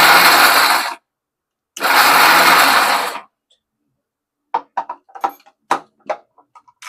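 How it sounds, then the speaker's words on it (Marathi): A kitchen mixer grinder grinds peanuts in two short pulsed bursts, loud and whirring with a pause between, followed by a scatter of small clinks and knocks. "चालू बंद करून मिक्सर चालू करायचा."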